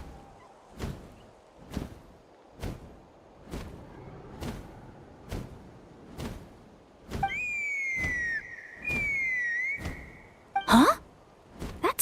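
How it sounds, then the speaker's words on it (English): A shrill whistle in the Genshin Impact video game rises and holds its pitch twice, with a rhythmic thumping beat pulsing under it and a sharp swooping cry near the end. "sounded like a whistle"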